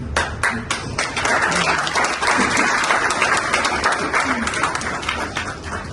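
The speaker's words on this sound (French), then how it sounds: "vous avez applaudi parce que c'est beau" A crowd at a talk applauds loudly and continuously, a thick wash of many clapping hands with a few distinct sharp claps at the start, lasting several seconds with some voices in the mix.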